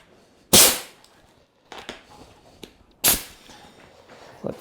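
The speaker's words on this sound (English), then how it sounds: "Might be my nail gun." A pneumatic nail gun fires in cold weather: two sharp, loud pops about two and a half seconds apart, with softer clicks and knocks in between against a quiet background.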